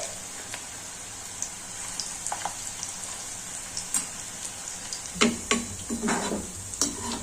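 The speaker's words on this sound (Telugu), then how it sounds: "నూనె కాగింది కాబట్టి ఇప్పుడు సన్నగా చేసుకోండి సన్నగా చేసుకొని వేసుకోవాలి" Small drops of pakodi batter fry in hot oil, a soft sizzle broken by crackling pops and scraping stirs that grow busier toward the end.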